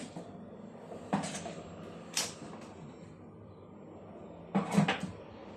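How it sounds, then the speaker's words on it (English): A small cupboard door, fitted with a tiny eBay door closer, swings shut on its own with a few soft knocks and clunks, quiet and close in an otherwise still room. "Want me to close the door because the door closes itself."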